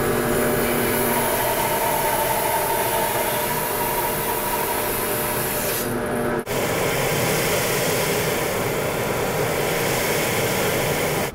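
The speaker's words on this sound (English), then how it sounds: "I'm going to go over the bandsaw, I'm going to resaw off a slice of this" A bandsaw resaws a slice of wood off a board for veneer, giving a loud continuous whine and rushing motor roar with a brief dip midway, close and steady, no talking.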